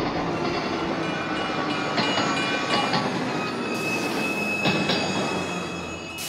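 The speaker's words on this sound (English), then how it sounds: "Man, that's one slow-ass train." A slow train rolls through a Splatoon 3 video game scene, a steady rumbling drone with squealing wheels and faint rhythmic clatter, continuous and fairly loud with no talking.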